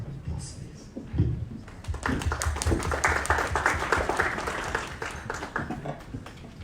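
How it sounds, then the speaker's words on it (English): An audience at a diplomatic reception for Indonesia's 74th Independence anniversary breaks into applause, a dense burst of clapping that swells after a moment and continues steadily, with faint voices underneath. "Can we give a round of applause, please?"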